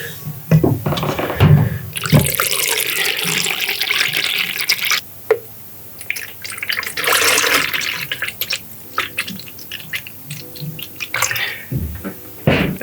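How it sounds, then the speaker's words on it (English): Melted Golden Wax S41 candle wax pours in uneven splashing streams with pauses between pours, dribbling and trickling close up, without any talk. "So the wax is just about melted, so we're going to pour them"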